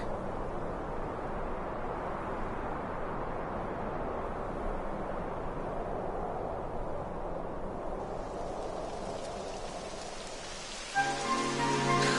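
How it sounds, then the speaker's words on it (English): Steady rain pours down in the video game Dragon Quest XI, a dense even hiss of drops on surfaces that continues unchanged, with a brief tonal game sound entering at the very end. "It would have to go and start raining, wouldn't it?"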